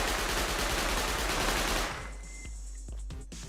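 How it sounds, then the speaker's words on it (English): An SMG in the survival game Rust fires one long, loud, continuous burst that stops abruptly, followed by a couple of faint clicks and handling sounds. "now we're going to use the SMG"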